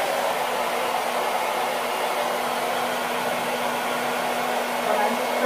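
A hair dryer blows steadily and loudly throughout during an at-home DIY balayage hair coloring session, a continuous close whooshing roar with a faint hum running underneath.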